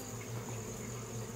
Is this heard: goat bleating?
no